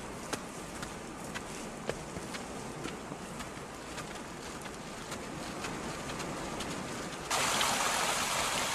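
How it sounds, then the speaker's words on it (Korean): Steady broadband rush of a mountain stream babbling continuously on Hallasan's Yeongsil trail, with faint ticking footsteps and a brighter hiss rising near the end. "청량한 개울물 소리가 봄 기운을 느끼게 해주었지만"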